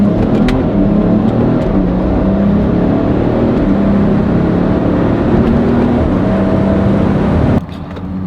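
Tuned BMW X3 35i SUV launching and accelerating: a loud, sustained engine roar with rising revs and gear changes from inside the car, cutting off abruptly near the end.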